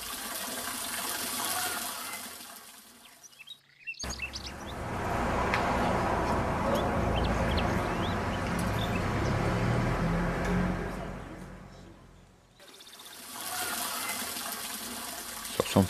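Water running from the tap of a stone town fountain in Brignoles, a steady bright splashing stream that drops out briefly twice before resuming, close and alone.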